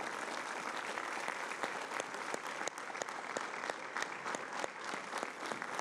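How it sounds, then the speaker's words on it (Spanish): Sustained applause from a crowd at a Venezuelan election announcement, dense steady clapping with a few sharper claps standing out, moderately distant, with no talk over it. "pido un aplauso al pueblo de Venezuela"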